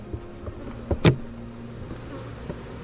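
Honey bees hum faintly around an open beehive, with one or two brief, louder buzzing bursts passing close by against a quiet background.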